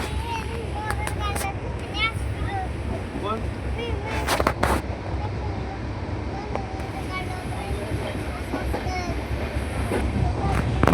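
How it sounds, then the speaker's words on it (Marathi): A Pune–Daund DEMU local train moving slowly, with a continuous low rumble, rattling and scattered sharp clanks from the cars, and faint voices in the background. "ट्रेन स्लो आहे."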